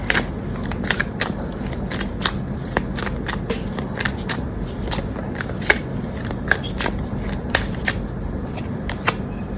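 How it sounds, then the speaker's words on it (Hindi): Tarot cards are shuffled and pulled from the deck in a continuous close crackling riffle, with sharp card snaps recurring throughout and no talking. "I'll pull new few more cards"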